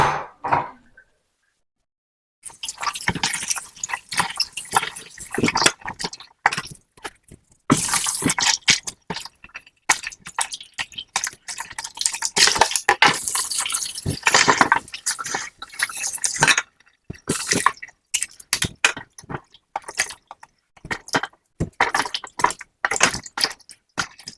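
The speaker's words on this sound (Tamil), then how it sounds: "இப்போ நான் துப்புரவு செய்து எடுத்துட்டு ரெண்டு மூன்று தண்ணியில் நல்லா கழுவி எடுத்துக்கொள்ளுவேன்" Cleaned prawns are rinsed in two or three changes of water while making prawn and pineapple fried rice: irregular close splashing and dripping bursts, starting after a short silence and continuing in uneven clusters.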